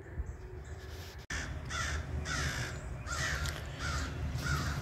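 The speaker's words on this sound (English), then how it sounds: "I heard some crows over here, so I thought I'd come check it out." Several crows caw in the woods of the Blue Ridge Mountains, sounding as repeated harsh calls at moderate distance over a quiet rustling background.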